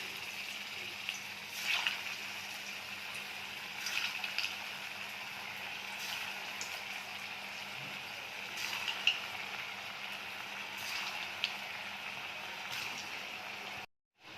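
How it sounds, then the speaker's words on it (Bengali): Kofta balls deep-frying in hot oil in a kadai, a steady close sizzle and crackle running throughout with a few brief louder pops, ending abruptly. "কোপ্তাগুলো লাল লাল করে ভাজা হয়ে গেছে"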